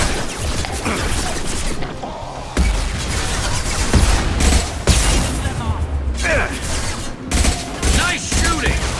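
Gunfire in the video game Mass Effect 2, loud sustained volleys and impacts during combat, with game character voices speaking over the fighting.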